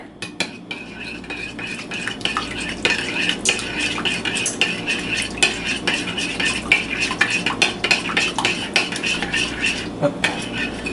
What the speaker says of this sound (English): And then we'll go ahead and mix the liquid up.